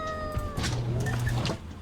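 A cat in the video game Order 13 lets out a single drawn-out, wailing meow, loud and close, over a low ambient hum.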